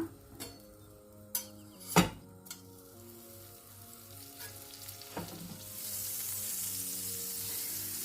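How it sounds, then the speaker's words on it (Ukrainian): Butter sizzling in a frying pan with a few sharp clinks and taps of utensils early on, then a steady, louder frying hiss building toward the end. "Ставимо нашу сковорідку на вогонь, додаємо сюди масло."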